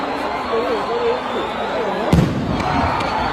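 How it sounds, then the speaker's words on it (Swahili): A tear gas bomb goes off amid a crowd of Simba football fans in Mwanza: one sharp bang cuts through a dense crowd murmur, with people talking and shouting throughout. "Makolo mnasababisha tunapigwa mabomu."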